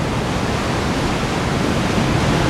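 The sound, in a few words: big set of ocean waves breaking at a surf slab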